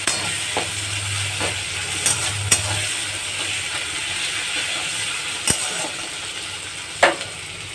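Spices frying in hot oil with bay leaf give a soft continuous sizzle, broken by several sharp clinks and scrapes as a utensil stirs the pan close by.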